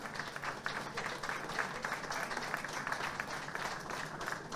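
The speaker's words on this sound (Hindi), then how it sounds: "तालियां बजती रहनी चाहिए" Applause from an audience at an awards function, a continuous, fairly distant wash of many hands clapping with no voices heard over it.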